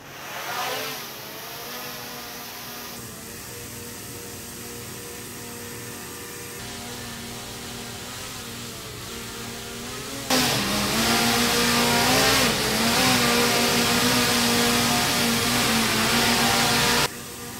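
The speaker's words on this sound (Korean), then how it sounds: "이것이 미니3 프로 소리였고요." A DJI Mini 3 Pro drone in flight gives a steady, high buzzing whine with layered tonal hum that grows noticeably louder and brighter partway through, with no voices.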